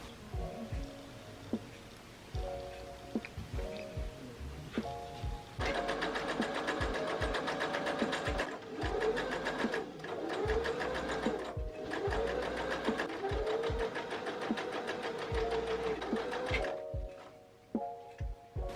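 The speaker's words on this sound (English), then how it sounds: "we're going to stitch that right sides together, joining these 2 layers together." A sewing machine stitches two layers of bedsheet fabric right sides together, its needle running in steady rapid bursts with short pauses and a few soft thunks between runs.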